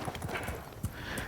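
Horse hooves clip-clopping as a cowboy rides at a ranch, quick uneven hoofbeats fairly close over a steady background, with no talk.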